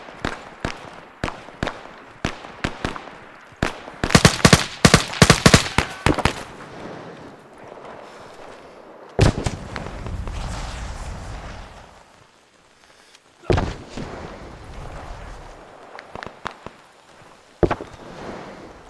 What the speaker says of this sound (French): Je balance des grenades de l'autre côté.